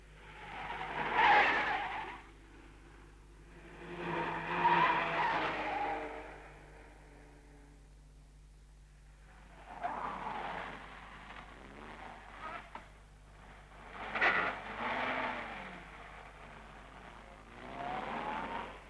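Rally cars from the 1951 Monte Carlo Rally skid and race past in several separate bursts, each swelling up and fading away, with quiet gaps between them.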